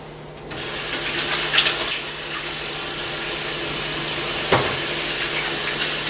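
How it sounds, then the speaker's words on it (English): Steady broadband rush of running tap water as hands are washed under it, a loud continuous splash with one brief knock partway through. "I'm gonna give my hands a wash"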